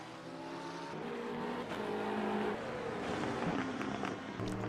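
GT3 race cars circulate at Watkins Glen International, including a McLaren, their engines droning and shifting pitch at mid distance, a steady layered roar with passing surges and a faint tire note.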